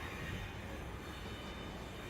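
A train rumbles by in the video game Lucah: Born of a Dream as a steady, dense, low roar with a faint metallic edge. It sounds muffled and fairly quiet throughout.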